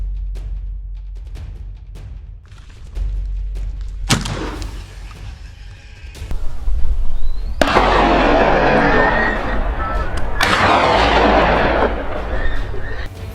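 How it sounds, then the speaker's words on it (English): Gunfire aimed at a wild boar during a hunt, with several sharp, loud reports in succession followed by sustained rumbling, crackling noise, close and forceful in an outdoor setting. "Quickly regaining focus, I pulled the trigger repeatedly."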